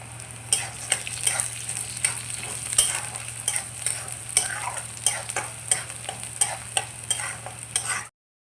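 Onion and peanuts fry with a steady sizzle in a pan, close up, while a spoon scrapes and stirs in repeated irregular strokes throughout, with no voices present.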